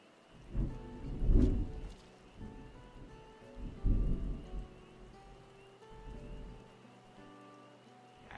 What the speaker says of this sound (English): we're about to get another thunderclap